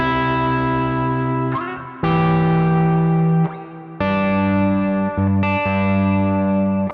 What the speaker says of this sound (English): Let's just show you what the full gain in this setting would be like.